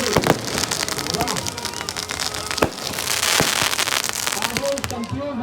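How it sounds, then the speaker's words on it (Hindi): Dense fireworks at the Dewa mela crackle in a near-continuous hissing patter with a few louder bangs, ground and sky displays going off together while someone talks over the din. "अब देखिए जोरदार तरीके से आतिशबाजी नीचे और आकाश दोनों का मोर्चा संभाल लिया है"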